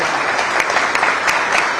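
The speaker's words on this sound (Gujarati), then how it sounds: "તાળીઓના ગણગડાટથી આપણે" Applause from an audience at a Gujarat government appointment-letter ceremony for state tax inspectors, steady dense clapping filling the whole moment with no voice over it.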